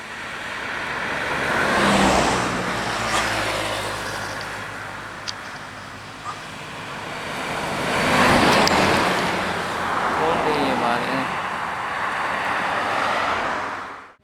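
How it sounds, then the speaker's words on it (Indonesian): Heavy buses with front-mounted Hino engines pass nearby, engines swelling then fading twice in broad whooshing sweeps, with a low diesel rumble underneath. "Epastar dengan mesin Hino AK atau mesin depan."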